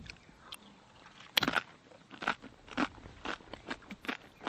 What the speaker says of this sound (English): You can hear from the crunching, they're not that stale.